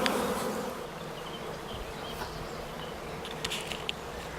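A honeybee swarm piling into a nuc hive, a steady, dense buzzing drone of many bees close by, with a few brief louder passes of individual bees.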